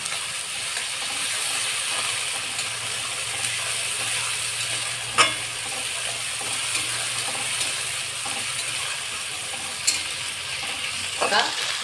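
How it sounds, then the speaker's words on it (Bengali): Onion masala with ginger garlic paste sizzles steadily in a pan as it is stir-fried for chicken biryani, a continuous close hiss with a few sharp spoon scrapes and clinks. "এবার আমি মশলাটাকে সুন্দর করে কষিয়ে নেব"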